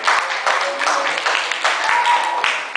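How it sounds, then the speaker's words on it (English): A church congregation claps for a woman, a short burst of scattered applause with distinct hand strikes, moderately loud across the room, with some voices mixed in. "Let's give Lynn a clap."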